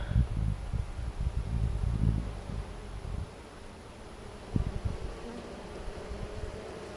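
Bees cluster on and around a poorly ventilated top bar hive, giving a soft, continuous low hum with rustling and a few louder bumps near the microphone, no voices.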